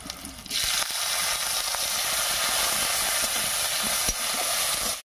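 Chopped tomato dropped into hot oil over a tempering of ginger and green chilli for a vegetarian cabbage and moong dal dish, a loud steady sizzle and frying hiss close by, with occasional stirring clicks.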